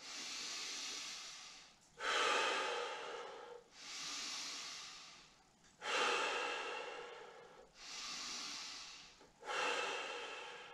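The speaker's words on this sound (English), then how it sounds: "Take about 3 to 5 deep breaths." Deep, slow yoga breathing during a Kundalini yoga session, six alternating inhales and exhales that are loud and close, each lasting about two seconds with a steady airy rush and no talk.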